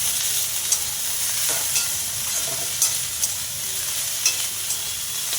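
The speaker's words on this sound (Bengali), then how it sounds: "নেড়ে নেড়ে দিতে হবে বারে বারে, নাহলে পুড়ে যাবে ফুলটা" Drumstick flowers and potato pieces being stirred and fried in a pan over a low gas flame, giving a steady soft sizzle with occasional scraping clicks from the stirring, close and alone.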